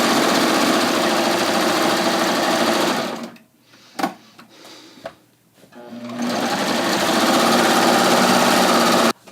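A serger sewing a 3-thread rolled hem on a dress hem gives a loud, fast, steady mechanical whir. It cuts out for a couple of seconds with a few clicks in between, then resumes at full speed.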